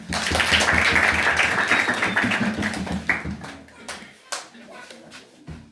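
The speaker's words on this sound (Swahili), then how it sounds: "Kwa hivyo tumpigia makofi anapokuja." Church congregation at a Catholic Mass in Kakalel, Lodwar, clapping to welcome the priest; dense, lively applause for about three seconds that thins into scattered claps, with some voices underneath.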